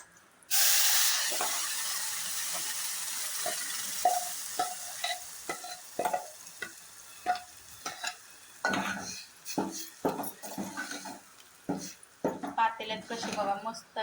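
A sudden loud sizzle bursts as hot oil tempering with cumin seeds hits the pot, then crackling and popping continue with stirring clicks and a voice speaking intermittently.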